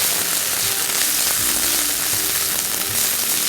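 Onions with ginger and garlic paste fry in oil for a curry base, giving a steady, dense hissing sizzle throughout, close and fairly loud, with faint stirring knocks and no talking.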